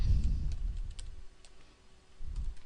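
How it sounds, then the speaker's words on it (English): Computer keyboard typing during a search in Microsoft Project 2010, a short burst of soft key clicks, moderately close and quiet, with low rumble underneath and no voices. "I'm going to type in construction"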